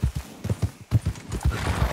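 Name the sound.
horse hooves and neigh in video game Red Dead Redemption 2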